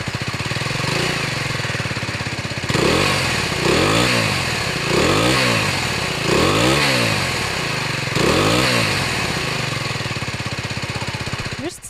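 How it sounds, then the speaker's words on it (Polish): A motorcycle idles with a rumbling exhaust, punctuated by five rhythmic throttle blips that rev up and settle back down, loud and close. "Okej, fajny wydech, jest deczko głośniejszy."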